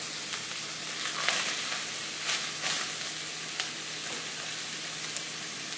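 Minced ginger hits a hot pan and sizzles with a continuous close hiss that swells in a few short bursts as it settles, with no voices.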